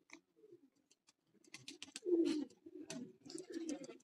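A rooftop pigeon coos in soft, repeated low throaty phrases, fairly close and growing louder in the second half, with a few faint chirps and small noises around it.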